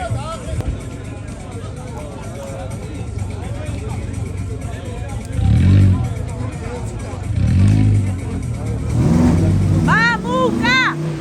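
A rally car launches from the start line at an off-road festival, its engine surging in loud revving bursts amid the shouts and cheers of a nearby crowd.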